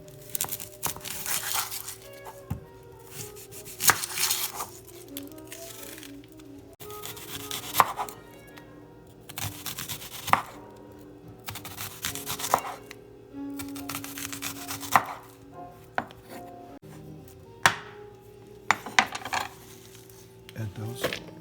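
Red onions are chopped with a knife on a cutting board in a home kitchen, with rapid rhythmic bursts of close, crisp chopping separated by short pauses.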